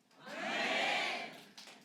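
A church congregation applauding during a Sunday worship service, a brief swell of clapping that rises, holds for about a second and fades out.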